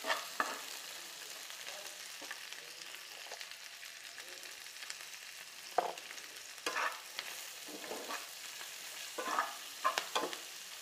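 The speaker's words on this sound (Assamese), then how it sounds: "এইখিনি ব্ৰাউন কালাৰ হোৱালৈকে মই ভাজি থাকিম" Green chillies and other ingredients frying in a pan until brown give a soft continuous sizzle, with occasional louder scrapes and stirring clatters toward the end.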